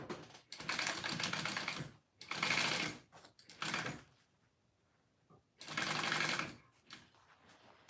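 A sewing machine bastes fabric to a zipper for a handmade wallet, stitching in several short close bursts with brief quiet pauses between runs.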